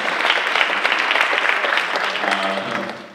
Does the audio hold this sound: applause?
yes